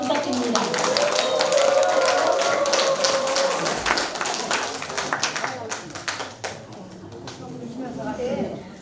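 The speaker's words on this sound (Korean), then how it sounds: "큰 박수 부탁드립니다." Applause from an audience at a celebration event greets a soprano singer, a dense burst of clapping that is loudest early, then thins into scattered individual claps before fading, with some voices mixed in.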